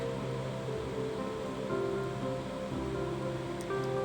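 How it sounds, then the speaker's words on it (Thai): Mushrooms boil in a pot of water on a stove for a Thai mushroom curry, giving a steady, even rolling bubble and hiss, with faint tonal hums and a couple of tiny clinks near the end. "นำน้ำเปล่านะคะ ตั้งไฟจนเดือดนะคะแล้วก็ใส่เห็ดลงไปค่ะ"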